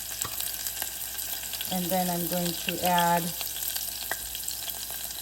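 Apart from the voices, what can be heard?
cumin seeds and chopped green chilies sizzling in oil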